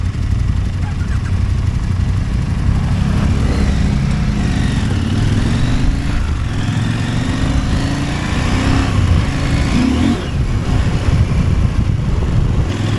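A KTM 890 Adventure R motorcycle rides at full speed. The engine roars loud and steady, close up, with rising and falling engine tones and heavy wind rush that last the whole time.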